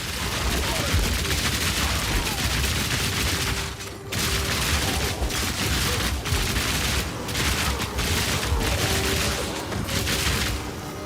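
A fully automatic crossbow firing in Path of Exile 2, a dense, unbroken rapid stream of bolts with brief pauses, loud and close, with game effects layered underneath.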